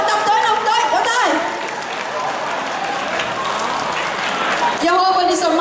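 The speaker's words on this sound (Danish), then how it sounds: "skal I klappe så højt, som I kan" Danish dance-group audience at a show applauding loudly, a dense wash of clapping that swells, dips briefly, then surges again near the end, with voices mixed in.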